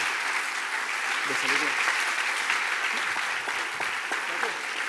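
Sustained audience applause at a live Spanish-language science talk, steady dense clapping with faint voices and a few cheers mixed in.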